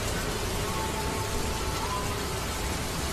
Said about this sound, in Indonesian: dari tadi hujan terus kelihatan ya, untuk jalannya ini basah semua